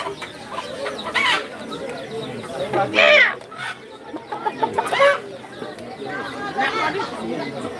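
A chicken about to be slaughtered clucks in short, loud bursts close by, while several people talk and chatter around it.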